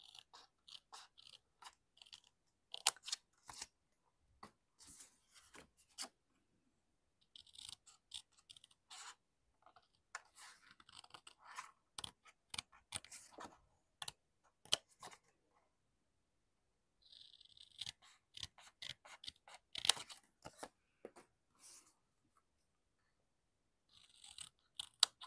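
Scissors snip along a paper strip for a homemade perpetual calendar craft, a run of close, crisp cutting bursts separated by short pauses, with no voices.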